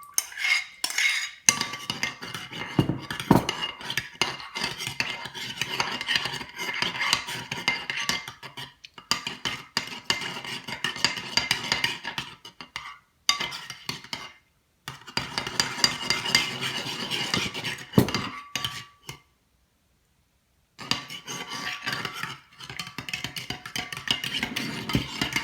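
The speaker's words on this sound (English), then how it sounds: "So let me stir up my glue mixture." A utensil stirs a glue mixture in a container, giving irregular scraping and clinking strokes close by, with brief pauses between bursts of stirring.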